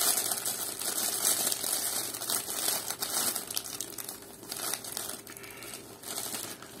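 Plastic packaging crinkles and crackles close up in irregular bursts as it is handled and pulled open, with no talking.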